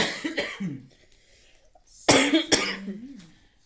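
Two coughing fits close to the listener: a brief cough first, then after a pause a sharper, louder double cough with a raspy tail.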